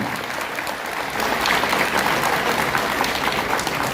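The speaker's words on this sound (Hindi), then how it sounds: "तालियों से स्वागत, अभिनंदन करो" Dense crowd applause at a political rally in Bhilai, steady and loud, swelling slightly after the first second and continuing evenly throughout with no speech over it.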